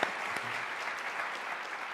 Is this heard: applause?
yes